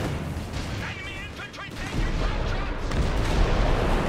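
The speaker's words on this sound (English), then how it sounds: "Artillery fire on the Italian tanks." Artillery shells pound Italian tanks in Company of Heroes 3, a dense rumble of distant booms and gunfire rolling beneath a commentator's voice.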